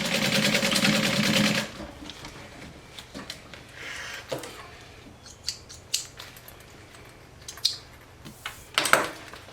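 A sewing machine runs in a loud steady burst while top stitching a fanny pack where the zipper meets the panels, then gives way to scattered clicks, snips and handling knocks of fabric and tools.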